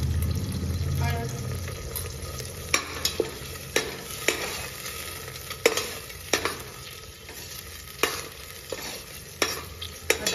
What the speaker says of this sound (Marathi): आता आपण ही प्युरी कांद्यात अगदी तेलामध्ये चांगली हे करून घेऊया, तळून म्हणजे तेल सुटेपर्यंत आपण भाजून घ्यायचं आहे।